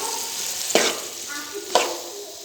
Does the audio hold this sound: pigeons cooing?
no